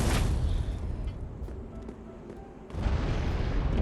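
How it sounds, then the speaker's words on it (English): A loud, rumbling explosion booms in the video game Dark Souls 3, dense and sustained, easing slightly before a second heavy blast surges in near the end. "I almost got him with that explosion."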